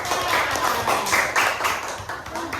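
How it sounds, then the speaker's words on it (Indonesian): Scattered clapping from a small group in a classroom, steady for a couple of seconds with some uneven, overlapping claps. "tepuk tangan untuk Bapak"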